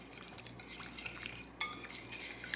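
Pasta salad with yogurt dressing, champagne vinegar, salt and pepper being stirred in a bowl: soft continuous scraping and wet mixing with light utensil clinks and one sharper knock, fairly quiet and close, no talking.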